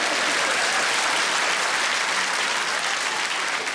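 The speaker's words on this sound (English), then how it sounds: "Yeah, you're all clapping." A comedy show audience claps steadily and loudly throughout, a dense continuous wash of applause with no voices standing out.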